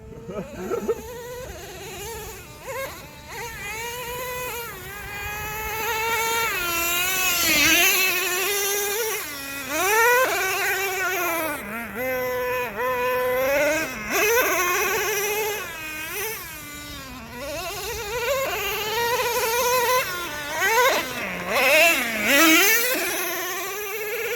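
A Traxxas Revo 3.3 nitro RC truck, freshly rebuilt, bashing offroad: a high, buzzing two-stroke whine that revs up and down repeatedly, swooping in pitch as it drives near and away, loud and sustained.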